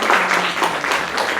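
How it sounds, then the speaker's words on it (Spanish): Audience applause in a university lecture hall, a dense, steady burst of many hands clapping at close range, without voices. "Un fuerte aplauso."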